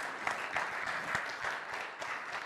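An audience at a conference talk claps steadily, a dense, continuous patter of many hands filling the room without letup, with no voices over it.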